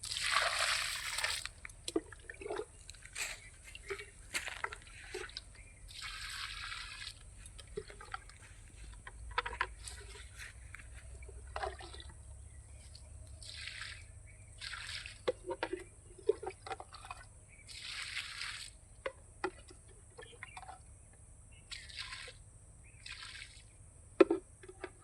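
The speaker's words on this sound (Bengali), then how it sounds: "তো আমি গাছে জল দিই এখন।" Water poured onto garden plants: soft intermittent splashes, drips and trickles that come in short bursts, close but fairly quiet over a low steady background hum, with no one talking.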